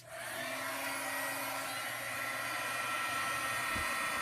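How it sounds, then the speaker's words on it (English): An embossing heat tool with an anti-static design whirs up to speed, a steady broadband blowing roar that stays loud and constant, close by, with a faint low thump near the end. "And I'm going to heat my heat tool up"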